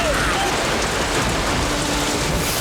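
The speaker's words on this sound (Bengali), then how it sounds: "পৃথিবীর যেখান যেখান থেকে জল গায়েব হয়েছিল সেখানে মেঘারা এসে বৃষ্টি করছে" Steady, dense rainfall in an animated cartoon scene, a loud uniform hiss of rain pattering on surfaces throughout, with no distinct voice over it.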